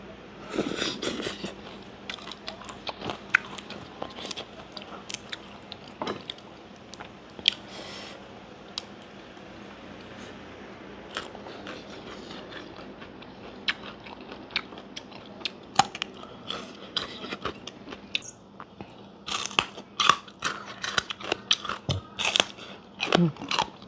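Bitter neem (sadao) vegetable eaten with rice and chili dip, giving soft irregular crunches and wet chewing sounds close to the mouth, intermittent throughout with faint speech now and then.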